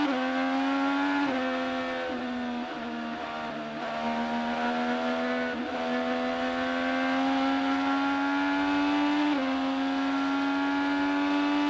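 An IndyCar race car runs at Road America, its engine holding a loud, continuous high-revving whine with slight pitch dips as it shifts, steady and close throughout.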